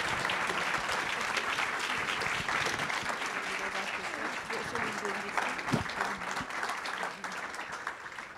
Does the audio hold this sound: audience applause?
yes